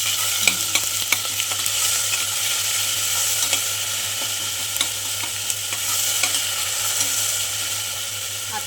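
Ginger-garlic paste and cumin are stirred in hot oil inside a new pressure cooker for masale bhaat, a constant loud sizzle with frequent light spoon scrapes and taps, close and steady throughout.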